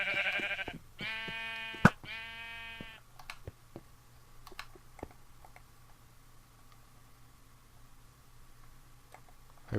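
Sheep in Minecraft FTB give a couple of close, clear bleats near the start, followed by scattered clicks and soft tapping sounds.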